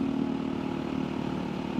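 An off-road fuel-injected dirt bike engine drones steadily at a fairly constant pitch, moderately loud and continuous with no talk.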